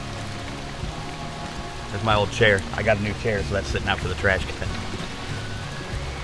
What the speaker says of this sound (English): Here in Texas, it's raining a little bit, but it's supposed to start lightening up.